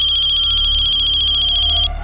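A telephone rings loudly and continuously in a crime drama scene, a bright electronic ringtone that repeats in a fast pulsing pattern for about two seconds and then cuts off abruptly, with no talking.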